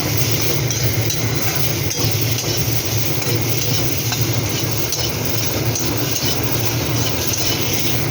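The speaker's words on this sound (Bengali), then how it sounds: "আর কুচি করে রাখা পেঁয়াজ দিয়ে দিলাম। তো এটা ভালো করে ভাজবো।" Potato pieces and chopped onion fry in a pan over low gas, giving a steady, close sizzle with stirring scrapes and an occasional light clink of utensil on metal throughout.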